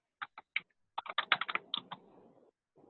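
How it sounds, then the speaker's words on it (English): A run of quick, crisp keyboard typing sounds fairly close: a few separate taps, then a denser burst of keystrokes that trails off, with one last tap after a short pause. "I don't know who's typing. I'm hearing typing."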